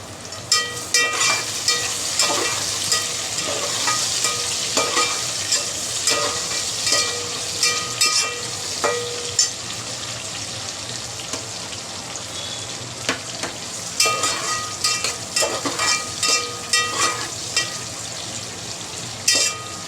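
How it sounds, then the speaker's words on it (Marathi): Finely chopped tomatoes sizzle and fry with onions in a pan, a continuous crackling hiss broken by repeated scraping and stirring clatters, close and clear with no talking. "टॅमॅटो पण आपण 1 मिनिट चांगलं परतून घ्यायचं आहे।"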